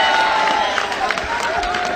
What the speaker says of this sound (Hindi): एक बार दोनों हाथ खड़े करके जोरदार तालियां बजाएं